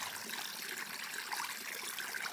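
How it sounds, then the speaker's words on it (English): Fresh water from a mountain spring trickles steadily, a soft continuous hiss-like flow with no voices, faint and even throughout. "I found a mountain spring with fresh water"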